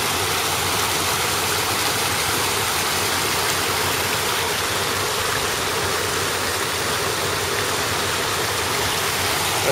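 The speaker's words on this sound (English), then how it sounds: "So that's the water they're pumping out of the ground just on one side of the mine." Water pumped out of the ground beside a coal mine in Elgin, Texas, gushing out in a steady, loud broadband roar like a stream or waterfall that continues unbroken throughout.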